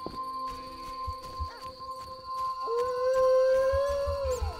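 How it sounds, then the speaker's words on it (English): A dog howls in The Witcher: Enhanced Edition, with a long rising howl that swells and holds near the end over game ambience and a steady background tone. "Oh, little puppy dog."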